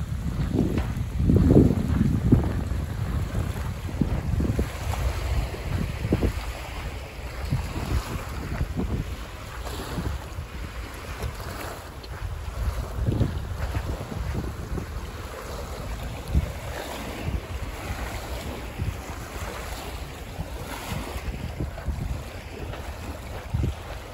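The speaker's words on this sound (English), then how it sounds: "We'll walk up to the water's edge so we can listen," Gentle water lapping at the shoreline of Big Bear Lake in California, soft irregular washes mixed with strong wind buffeting the microphone, with no talking.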